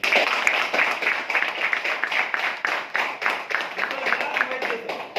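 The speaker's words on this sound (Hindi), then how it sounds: "एक बार जोरदार तालियां" An indoor audience at a business training meeting claps in loud, sustained, dense applause that keeps a steady rhythm for several seconds.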